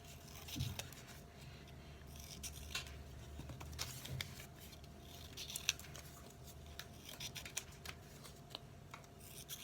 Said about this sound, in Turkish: Şu an küçük üçgenlerimi kesiyorum.